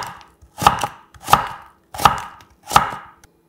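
A kitchen knife slices radish into thin strips on a cutting board: four crisp, evenly spaced chops close up, with quiet pauses between them.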